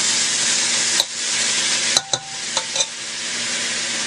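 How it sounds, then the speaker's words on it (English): Steak sizzles steadily in a hot pan for pepper steak, a continuous close hiss with a few brief clinks and stirring knocks partway through. "once that starts frying up"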